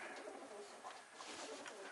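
Magpie pigeons coo softly in a short burst, low repeated calls at close range over a faint background hiss.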